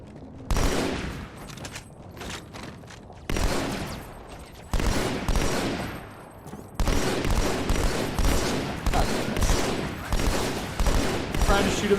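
Sustained firefights in the shooter Halo: The Master Chief Collection: dense, continuous bursts of rapid gunfire in loud waves separated by short gaps, with faint voices mixed in.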